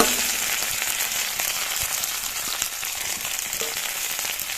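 Onions, chillies and curry leaves fry in hot oil with mustard seeds, a close, busy crackling sizzle that continues steadily without talk.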